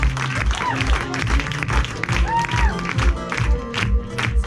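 A pub audience at a live stage show applauds loudly and steadily, with some cheering mixed into the dense clapping.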